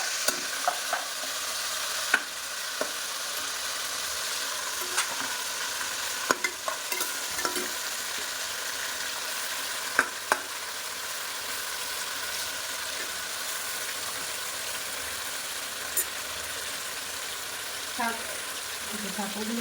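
Meat fries in a pan with a steady close sizzle, punctuated by scattered clacks of a spoon stirring and scraping, with occasional soft talk in the background.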